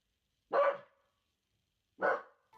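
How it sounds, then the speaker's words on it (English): A small dog barks at a bedroom door, two sharp, loud barks about a second and a half apart, with quiet around them. "just barking incessantly at the bedroom door"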